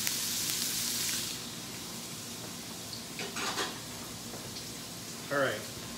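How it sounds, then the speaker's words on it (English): Shrimp sizzles steadily in a hot frying pan, with a few utensil clinks and scrapes against the pan and a brief voice near the end. "You hear the sizzle?"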